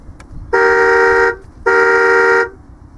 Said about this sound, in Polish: Jest prawdziwy klakson.